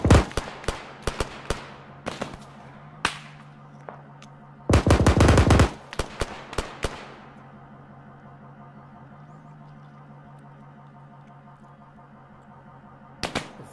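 Gunfire fills a military video game mission: loud single shots and short bursts crack close by, one long rapid automatic burst, then a lull of low rumble before a final shot, with no talk.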